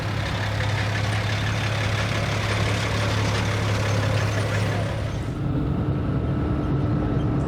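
A commercial vehicle engine idles steadily at a steam and country fair, a loud continuous low rumble with a heavy diesel hum that shifts in tone partway through.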